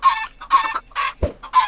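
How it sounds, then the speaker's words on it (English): Chickens in a Minecraft-style video game cluck in four short, evenly spaced bursts, close and clear, with one brief low thud between the last two. "hopefully these chickens don't run wild in here, because I hate loose chickens"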